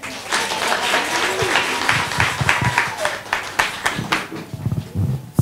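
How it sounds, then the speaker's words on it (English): An audience claps for Her Excellency during a visit to Mama Teresa Children's Home, with dense, steady applause filling the room and some voices mixed in. "Let's appreciate Her Excellency with a better clap"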